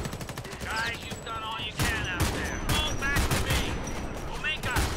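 Rapid bursts of gunfire ring out in the shooter game Homefront: The Revolution: close, sharp volleys and automatic fire cluster into repeated salvos, with a voice speaking intermittently between the shots.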